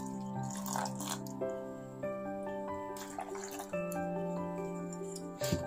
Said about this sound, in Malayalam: നമുക്ക് 2-ാം പാൽ എടുക്കാനായിട്ട് കുറച്ച് ചൂടുവെള്ളം ഒഴിച്ചു കൊടുക്കാം.